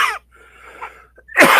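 A single abrupt cough bursts out close to the microphone, followed by a brief quiet gap and a sharp throaty exhalation.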